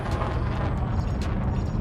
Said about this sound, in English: And I better get away from him because he's exploding.